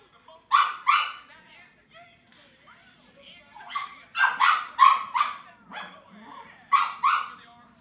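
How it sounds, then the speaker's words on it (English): Two pet dogs, Poppy and Joy, bark indoors in short paired bursts, several times over the stretch, fairly close and moderately loud, with quieter whines and a faint voice between barks. "Those are our dogs."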